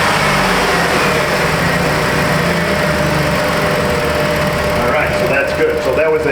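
A 2007 Jeep Grand Cherokee engine held near 2,000 rpm and lugging under a heavy 150-amp alternator load, giving a loud, steady, rough drone that continues unbroken from start to finish.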